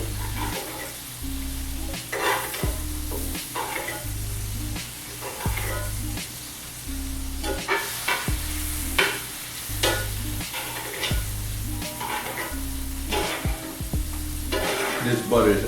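Filet mignon sizzles in a pan with rosemary and European salted butter, frying steadily up close while a spoon repeatedly scrapes and knocks against the pan as the butter is basted over the meat.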